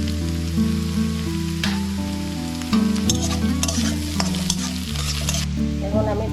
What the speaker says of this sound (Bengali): এখন আমি দিলাম রসুন কুচি আর কাঁচা লঙ্কা কুচি